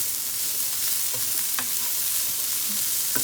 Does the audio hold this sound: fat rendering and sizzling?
yes